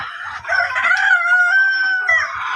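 A Fayoumi rooster crows loudly and close on a chicken farm in Rangpur, one long drawn-out call lasting about two seconds, with faint low clucking from other chickens around it.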